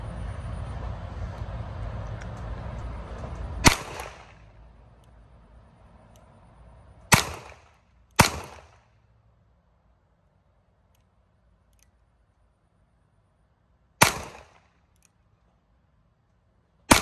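A revolver firing .38 caliber rounds at a fridge, four sharp loud cracks spaced irregularly after a stretch of steady background noise, each shot ringing off briefly.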